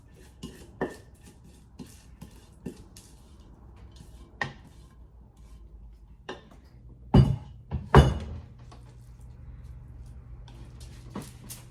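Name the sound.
granola dumped and spread onto a baking sheet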